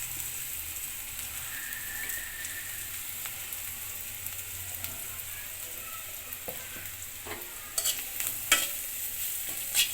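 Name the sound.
stirring turmeric powder into onions frying in a pan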